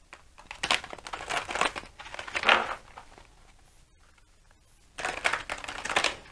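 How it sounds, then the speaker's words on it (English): Tarot cards are shuffled in three bursts of rapid riffling and crisp flicking, separated by short quiet pauses, close and fairly soft. "I always like to shuffle with you."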